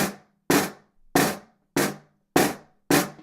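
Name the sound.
slow pressed buzz strokes on snare drum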